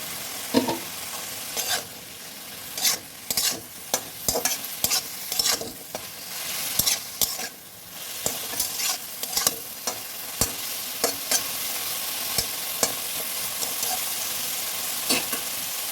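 Fish and potato pieces frying in a pan, a steady soft sizzle under repeated scraping and clattering stirs at an irregular rhythm, close by with no talk.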